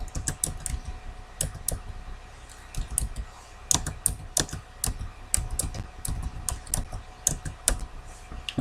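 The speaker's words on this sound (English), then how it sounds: "So let me enter my password quickly." A password being typed on a computer keyboard: rapid, uneven key clicks tapping continuously at close range, with no talking.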